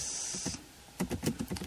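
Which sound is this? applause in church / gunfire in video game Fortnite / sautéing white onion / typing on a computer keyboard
typing on a computer keyboard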